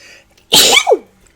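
A single sharp sneeze bursts out loudly after near silence, a quick explosive rush of breath trailing into a brief voiced tail.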